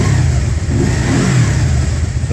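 A 2013 Can-Am RTS SE5 three-wheeled motorcycle with a 990 engine runs and revs, a loud, close, continuous engine roar rising and falling slightly with no talk.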